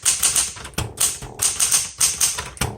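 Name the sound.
typing on a 1970s Smith Corona Galaxie Deluxe typewriter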